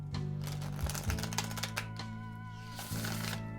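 Crisp rapid riffling of a brand-new deck of playing cards, a fluttering burst of clicks up close, followed by a brief pause and another quick riffle.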